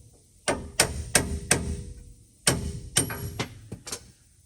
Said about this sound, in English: take a punch and a hammer